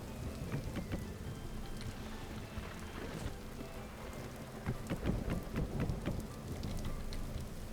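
Steady rain patters through a thunder and lightning storm in Vintage Story, with a low rumble of thunder swelling near the middle and a few sharp crackling strikes scattered throughout.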